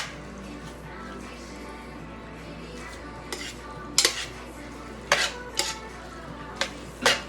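Utensil stirring noodles in a stir-fry pan: a steady low scraping bed with a few sharp metallic clinks and knocks spaced toward the end, close and moderately loud, no voices.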